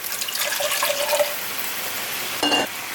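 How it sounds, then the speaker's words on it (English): Water is poured into a pan holding leftover cooked bitter melon, a steady hissing splash with a brief sizzle-like burst near the end, close and fairly loud. "I'm going to add some water to it here."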